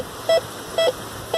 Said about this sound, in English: I now know what it sounds like to have a Duracell battery show up on my metal detector